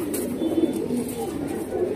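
Allahabadi pigeons coo softly and steadily in a loft, a low continuous murmur of several birds close by with no voices over them.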